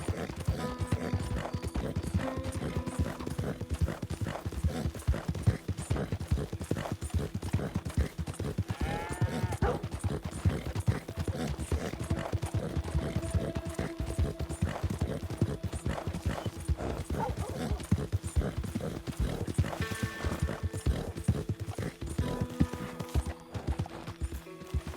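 Horse hooves clip-clopping in the Red Dead Redemption 2 video game, a dense, steady patter of hoofbeats that carries on for the whole stretch with livestock noises and a brief whinny mixed in, and no talk.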